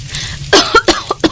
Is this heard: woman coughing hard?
yes